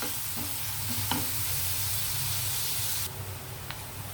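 Chopped onions frying in a pan, a constant close, bright hiss of hot oil with a couple of faint clicks and a slight drop in intensity near the end, no talking.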